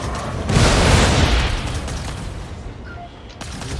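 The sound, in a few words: missile launch and explosion in a flight video game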